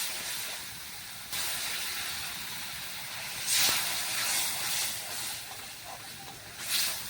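A little water splashes onto hot stone-ground chili paste in a pan while cooking a fish roe kofta curry, giving a loud, steady hiss and sizzle that swells in a few brief surges, with no talk.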